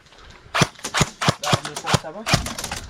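Airsoft guns fire at an ASG paintball field during a game, a run of about nine sharp, snappy shots in an irregular rhythm, close and loud, some with faint voices between them.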